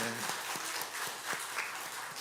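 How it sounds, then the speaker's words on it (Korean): Sustained applause from a church congregation at a children's Sunday service, a dense patter of many hands clapping at moderate distance, continuing throughout. "우리 한번 박수로 격려해 주시고"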